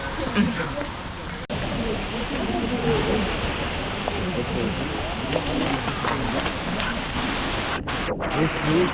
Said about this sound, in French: L'aventure continue, il y a de la grêle.